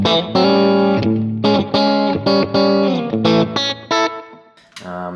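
An electric guitar played through a Quad Cortex with a gain boost rings out in a distorted, sustained solo line of bending, overlapping notes, loud and alone.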